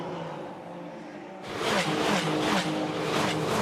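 Quiet engine drone, then a loud rush of Ferrari Challenge race cars sweeping past at speed at Valencia, roaring close by with no talk.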